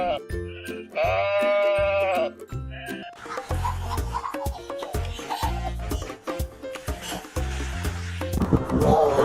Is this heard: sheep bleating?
yes